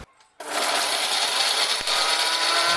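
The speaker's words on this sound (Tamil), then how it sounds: "இதை ஒரு மிக்ஸி ஜாரில் போட்டுட்டு அரைச்சிடலாம்." A kitchen mixer grinder jar grinds roasted sesame seeds and garlic for sesame rice, starting abruptly after a brief hush into a loud, steady high-pitched whir with a rattle from the contents.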